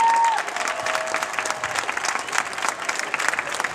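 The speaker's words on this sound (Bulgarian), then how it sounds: "Да, можем да ръкопляскаме." Audience applause during a speech on traditional family values and law, a steady crowd clapping throughout that starts loud, settles into a sustained even patter and continues without any talk over it.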